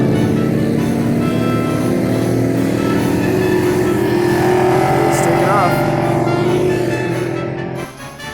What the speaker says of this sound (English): Everything from motorcycles, recreational vehicles, and just regular everyday cars just cruising around checking out the old town.